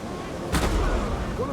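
Artillery booms out once in a naval battle video game, a loud, short blast followed by a rumbling tail, with voices and background battle noise continuing underneath.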